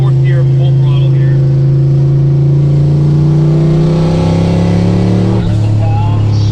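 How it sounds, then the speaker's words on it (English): Close inside the car, a turbocharged 1986 Ford Mustang pulls hard at full throttle in fourth gear, its loud engine drone climbing steadily in pitch before easing off near the end as voices talk over it. "let me do a 4th gear full throttle here"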